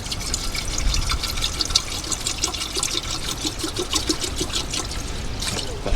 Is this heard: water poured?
yes